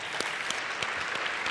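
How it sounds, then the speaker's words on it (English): An audience applauds a conference speaker named Steffi, steady dense clapping from a crowd, moderately loud and continuous throughout with no voices over it. "please give Steffi another round of applause"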